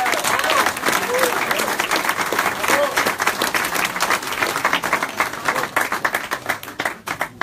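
A crowd applauds a handball team after a home match in Lyon, clapping loud and sustained, then thinning toward the end, with a voice speaking faintly over it.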